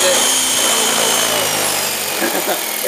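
An Airwolf RC model helicopter hovers in a test flight with a loud, steady, close motor and rotor whine that holds for the whole stretch, no talk over it.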